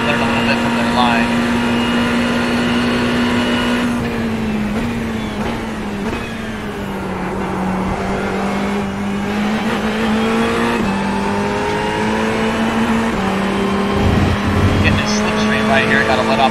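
A Ferrari 488 GT3 race car engine at the Enzo e Dino circuit roars steadily and loudly on a final lap from the cockpit, pitch shifting with throttle and gear changes, with a brief lift-off dip, under occasional talk.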